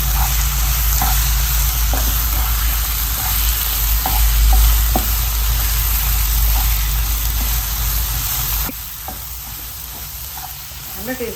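Egg cheese masala with garam masala sizzles steadily in a hot pan, with a constant loud frying hiss and a few scraping stirs. The sizzle drops slightly near the end.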